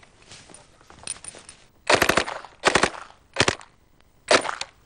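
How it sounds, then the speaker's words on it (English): Thompson submachine gun firing in several short automatic bursts, each a rapid clatter of loud, sharp shots separated by pauses, heard close with no talking. "This is the Tommy gun."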